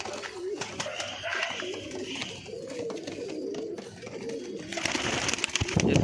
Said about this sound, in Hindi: सभी परंद कबूतर हैं, एक से बढ़ के एक कबूतर है जी